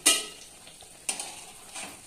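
Pitha rice cakes frying in oil, with a soft, steady sizzle and two sharper bursts of spatter and clatter as the cakes are turned, heard close and without speech.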